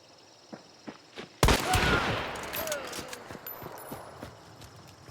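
A single loud gunshot in Hunt: Showdown cracks out after a few soft footstep-like thuds, then rings and decays slowly amid scattered light movement sounds.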